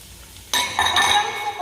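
Chopped onion and celery hit a preheated pan and burst into a sudden bright sizzle that keeps crackling steadily after the initial splash.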